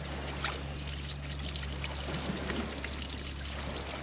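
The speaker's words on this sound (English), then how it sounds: "I'm going to see if I can get some water down in this pipe" Water pours and trickles into a garden pipe that feeds a vegetable garden and greenhouses, a steady close rushing wash over a low hum, with no break.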